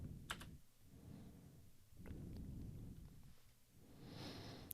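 Keys tapped on a computer keyboard while entering a short username, a few quiet clustered clicks over a low background hum, no voices.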